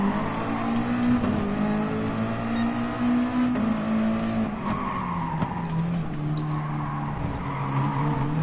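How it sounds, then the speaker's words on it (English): A car drifts with skidding, squealing tires and a steady engine drone in a PS4 racing video game, loud and continuous with no talk. "Lovely drifting."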